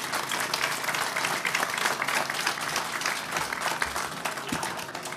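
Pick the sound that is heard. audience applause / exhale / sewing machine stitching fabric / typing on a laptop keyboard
audience applause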